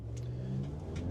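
A 2025 Audi S3 engine hums steadily at low revs as the car sets off, a close, even mid-pitched drone with light whir and no voices.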